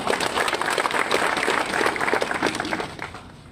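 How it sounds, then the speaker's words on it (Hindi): An audience at a DJ union meeting in Chhattisgarh breaks into sustained, dense applause, a close and steady roar of many hands that tapers slightly at the end. "सही है तो सम्मान के साथ ताली बजाओ।"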